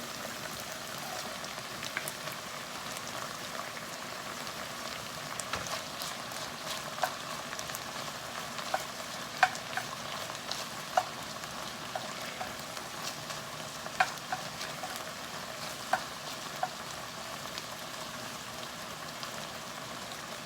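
Onions sautéing in a pan while being stirred, a soft, continuous sizzle with scattered light scrapes and ticks from the spoon, close and even throughout with no talking.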